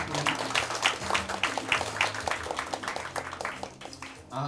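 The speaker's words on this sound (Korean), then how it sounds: "박수 한번 칠까요?" Applause from an audience at a talk event: a string of quick, distinct claps with a light rhythm, fairly soft and short, with some background room noise.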